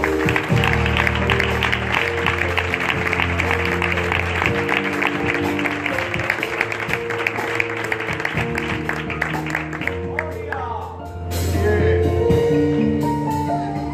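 A church congregation claps steadily and rhythmically in praise, the clapping running under loud worship music that keeps playing throughout.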